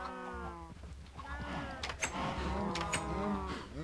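Cattle in the Minecraft video game give several drawn-out, overlapping moos in a steady farm-game soundscape, fairly close and at moderate volume, with no talking.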